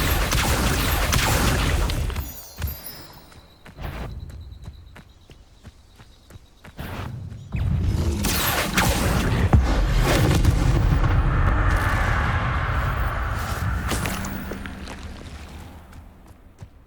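Fire spell bursts cast in the video game Hogwarts Legacy, loud whooshing blasts and booming impacts recurring amid a busy battle mix of other spell effects, with a quieter stretch in the middle.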